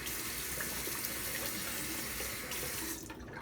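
Water runs steadily from a bathroom sink tap during a morning skincare routine, a continuous close hiss and splash throughout.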